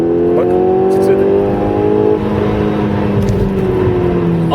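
A Seat Ibiza Cupra engine runs at low RPM with a deep, throaty tone, rising and settling in a couple of revs heard up close, with occasional faint noises and a voice in the background.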